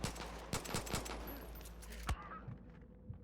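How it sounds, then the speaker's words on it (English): Rapid bursts of gunfire in the video game Far Cry 5, sharp cracks repeating in quick succession over a steady background hum, fairly quiet overall. "Who is shooting me?"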